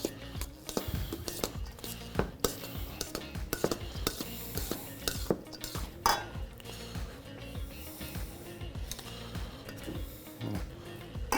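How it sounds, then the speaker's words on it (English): Quinoa salad with curly leaf parsley and vegetables being tossed in a bowl, giving repeated light clinks and scrapes of utensils against the dish in an irregular rhythm, close and moderately loud, with no talking. "Mix everything together."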